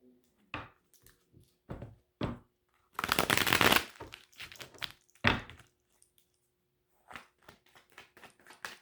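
Tarot cards shuffled and drawn: scattered crisp flicks and taps, then a dense riffling burst of about a second in the middle, followed by more short card snaps and slides, close and fairly quiet with no talk.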